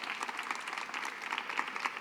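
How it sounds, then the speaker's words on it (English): Faint, steady applause from an audience at a university research and creativity summit at Tulane, following a talk; a dense patter of many hands throughout, distant and without voices. "let's give Dr. Kruger Hill a round of applause."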